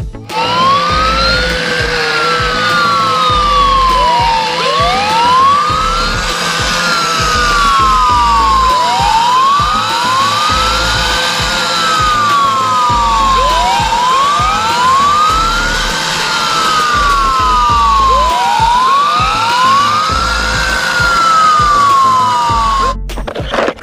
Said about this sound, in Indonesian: Mobil pemadam kebakaran.